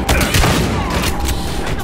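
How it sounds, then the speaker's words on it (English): Dense, sustained volleys of gunfire in Battlefield Hardline, loud and close, with overlapping bursts and booming impacts throughout. "Reporting gunfire downtown"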